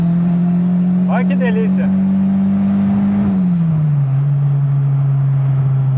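A roughly 40-year-old Volkswagen Voyage with a 200 hp turbo AP engine and long gearing pulls hard, a loud steady engine drone that drops in pitch once partway through, while someone speaks briefly over it.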